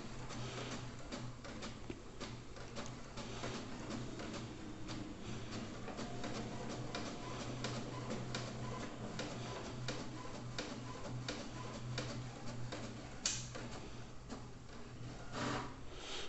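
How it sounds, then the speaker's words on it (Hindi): A printer prints a full black page, a steady low mechanical whir with dense rhythmic ticking and rubbing of the feed running continuously, fairly faint and close, without speech. "तो जैसे ही प्रिंटर शुरू होगा मैंने ऑन कर लिया, देखते हैं कितना समय लगता है।"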